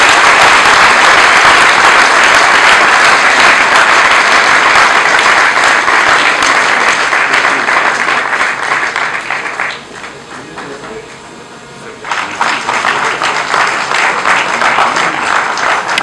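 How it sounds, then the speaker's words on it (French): An audience applauds at an agreement signing ceremony, with loud, dense, continuous clapping close by. It dips briefly partway through, then swells back to full strength and carries on to the end. "Sous vos applaudissements"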